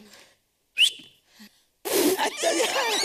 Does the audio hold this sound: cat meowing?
no